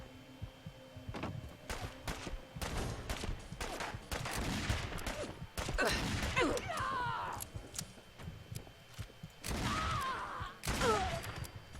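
M1 Rhino Revolver firing in Fallout 4, several sharp loud gunshots in quick bursts with game impact and ricochet sounds between shots.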